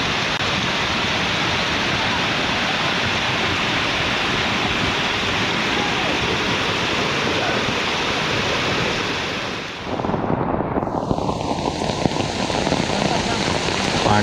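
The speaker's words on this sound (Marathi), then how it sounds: "मित्रांनो पाऊस काय पडतोय ते बघा" Heavy monsoon rain pours steadily in Naringre, Devgad, a loud, dense wash of water that stays constant throughout, with a brief dip and shift in tone near the end.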